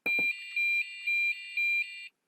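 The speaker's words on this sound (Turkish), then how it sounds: "gayet geçerli bir hata sesi olmuş" A short electronic buzzer driven by a PIC microcontroller sounds an error tone in four pulsing beeps, steady in pitch and fairly faint, preceded by a couple of quick clicks, then silence.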